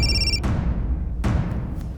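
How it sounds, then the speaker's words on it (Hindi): A home telephone rings in a drama scene, a short bright electronic ring at the start followed by dull thuds and knocks in a quiet room. "सर, फोन की घंटी तो घर पर ही बज रही है"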